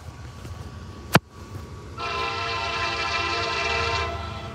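A passing locomotive, an SD60-type diesel on an intermodal freight, sounds its horn in one long, loud, sustained chord following a sharp bang, with rail noise underneath.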